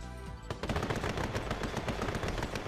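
Bunkers firing machine guns in the Command & Conquer: Yuri's Revenge video game, a rapid sustained burst of loud gunfire following a brief musical lead-in.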